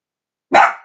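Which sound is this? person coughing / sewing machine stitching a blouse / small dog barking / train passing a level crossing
small dog barking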